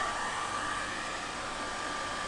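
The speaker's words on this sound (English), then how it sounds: "Putting my blow dryer on not full," A blow dryer runs at a low setting, a steady, even airy whir heard close and alone without pause.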